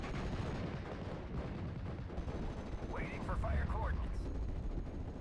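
Rifle and machine-gun fire rattles through a Normandy hedgerow battle in Steel Division Normandy 44, sustained crackling shots and distant booms over a constant din of combat, with a voice speaking briefly.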